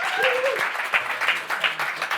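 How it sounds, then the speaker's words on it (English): Applause from an audience, a steady broadband patter of many hands clapping, moderately loud, with a brief voice or whistle-like tone near the start. "Round of applause, guys"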